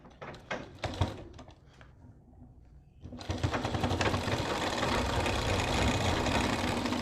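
A sewing machine runs steadily while stitching the neckline of a ladies suit, a short stop-start burst of clicks followed by a continuous close mechanical whir.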